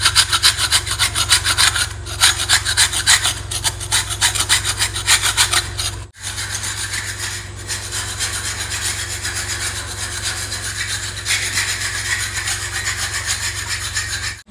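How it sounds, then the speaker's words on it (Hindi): A dirty stain is scraped with patri and rambi hand scraper tools in a room, giving a steady, loud, rhythmic rasping that goes on without break except for one short pause midway. "पतरी और रंबी की वजह से कुछ रगड़ा है जी"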